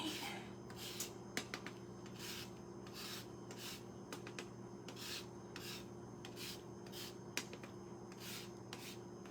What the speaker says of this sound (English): Can never forget the lemon zest, right?